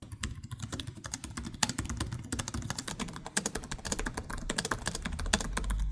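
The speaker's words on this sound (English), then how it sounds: "The keyboards are nice and snappy and feel great to type on." Typing on a 2025 Asus Zephyrus G14/G16 gaming laptop keyboard, a dense, steady stream of snappy key clicks close to the mic with no talking.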